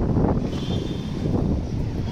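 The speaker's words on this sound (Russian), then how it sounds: "Оба, ветер." Outdoor wind buffets the microphone on a hot evening street in Dubai, a close, continuous low rumbling roar that lasts about two seconds with no speech.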